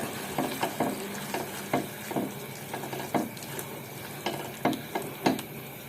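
Repeated scraping and clinking of a utensil stirring food in a pan, in irregular strokes over a soft background hiss.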